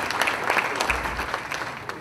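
An audience at a high school alumni hall of fame awards ceremony gives a round of applause, a steady crowd clapping at moderate distance that fills the short moment.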